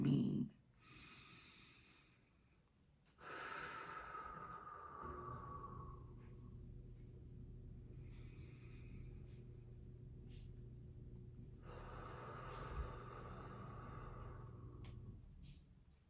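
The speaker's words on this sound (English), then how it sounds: "I feel the need to take 3 deep, cleansing, grounding breaths." Three deep, slow breaths taken near the microphone, each a long drawn inhale and exhale, followed by a low steady background hum.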